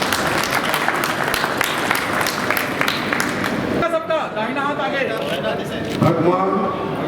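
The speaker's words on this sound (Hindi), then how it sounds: "ताली बजाकर स्वागत करें" An audience at a Gorakhpur community stage event claps steadily to welcome guests, and after a few seconds the applause gives way to someone speaking over a loudspeaker.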